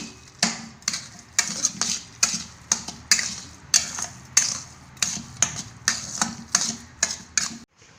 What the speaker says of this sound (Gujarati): હવે આપણે મિક્સ કરી લઈશું બધું